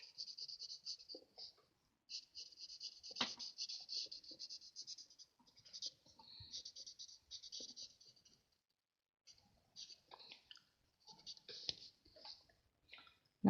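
Felt-tip markers used as colouring tools on a laser-cut card, their thin nibs making soft, close scratchy strokes in short bursts separated by pauses.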